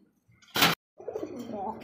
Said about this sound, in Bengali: এটা হচ্ছে ব্ল্যাক কালারের মধ্যে কালারিং রাসগোল্লা কবুতর